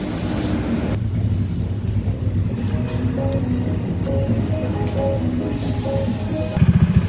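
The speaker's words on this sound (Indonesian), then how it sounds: "hidupkan mesin motor sampai panas" A Honda Vario 110 scooter engine runs at idle while warming up, a steady low mechanical hum with a faint rattle, ending in a brief louder, rougher burst.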